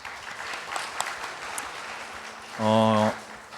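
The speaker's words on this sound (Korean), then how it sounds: "함께 박수하겠습니다" A church congregation claps steadily for a few seconds during a Sunday worship service, then a voice briefly calls out near the end.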